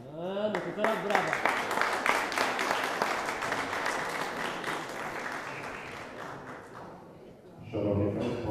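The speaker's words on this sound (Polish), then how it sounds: "No to teraz brawa." An audience at an outdoor village festival celebrating pollarded willows bursts into sustained applause, dense clapping that swells and slowly fades over several seconds, with a voice returning over the end.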